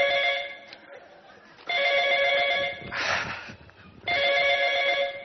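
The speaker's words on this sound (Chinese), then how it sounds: "田班长电话" An old-style telephone bell rings in bursts indoors, loud and close, with a pause between rings and a brief voice overlapping in the gap.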